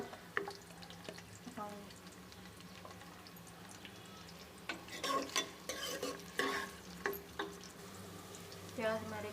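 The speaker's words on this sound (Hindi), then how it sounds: "घी गर्म हो चुका है, अपना प्याज जो है वो शामिल करके इसे गोल्डन ब्राउन होने तक" Onions frying in hot ghee, a low sizzle broken by repeated scraping and clattering of a spoon stirring the pan, louder toward the end, with someone briefly speaking over it.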